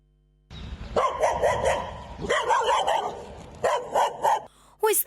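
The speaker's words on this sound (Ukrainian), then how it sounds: "Таким диким лаєм ця зграя собак нещодавно накинулась на дитину." A pack of stray dogs barks wildly and repeatedly at close range in overlapping bursts, with frantic yelps breaking in near the end.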